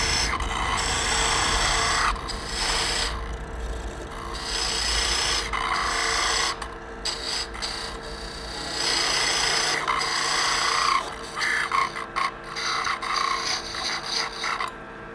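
Wood turning on a lathe, a Christmas orb blank being cut down to about an inch in diameter, gives a steady rasping scrape in long sustained passes with brief pauses between them.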